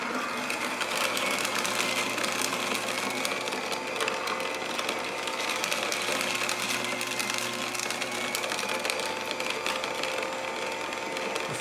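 A juicer machine runs steadily while pomegranate is juiced, a constant close whirring and grinding drone that holds at an even level throughout with no talk.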